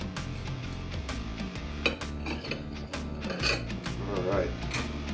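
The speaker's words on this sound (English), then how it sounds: "You can hear the nice crust on the top here. We're gonna cut about, what, 3/4 of an inch thick." A bread knife saws back and forth through crusty banana bread in a rapid, rhythmic rasping that continues throughout, with a voice speaking over it.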